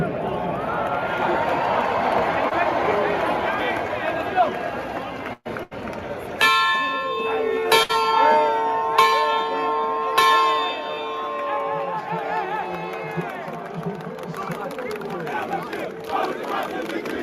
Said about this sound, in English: He's set to ring the victory bell after the Sentinels' first Big 12 win